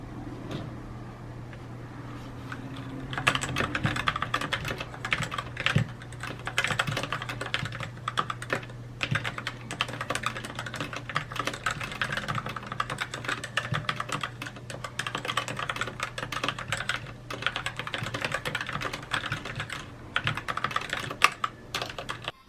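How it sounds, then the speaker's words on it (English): Typing on an Inland MKF mechanical gaming keyboard with red switches and Cherry stabilizers, a dense, steady stream of close, soft clacks and keystrokes running continuously after a brief quiet start, with a low hum underneath. "And anyways, here's what the keyboard sounds like."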